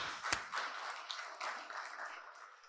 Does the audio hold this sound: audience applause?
yes